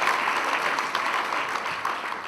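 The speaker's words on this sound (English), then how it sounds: "Guys, I truly believe we should give him another round of applause." An audience gives a renewed round of applause at a launch event, steady dense clapping throughout at moderate level with no talking over it.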